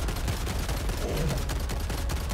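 Rapid, continuous gunfire in Helldivers on Helldive difficulty, a steady loud fusillade with no pauses.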